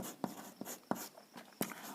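Someone writes out a ratio and proportion math solution by hand, producing faint, close scratching strokes punctuated by a few sharp taps of the writing tip, with no talking.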